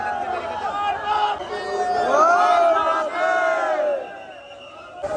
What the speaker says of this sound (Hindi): देख लो भीड़ कितनी है